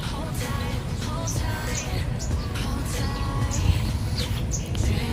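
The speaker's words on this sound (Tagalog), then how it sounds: "Yung huni ng ibon" Birds chirp at a villa resort, scattered short tweets sounding moderately close over a busy, noisy outdoor background.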